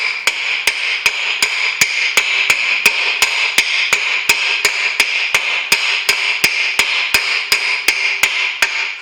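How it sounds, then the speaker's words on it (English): Light hammer taps fit a car's rear wheel bearing, a steady, even run of sharp metallic knocks about three per second, loud and close, with no talk. "Just give it a couple of little light taps."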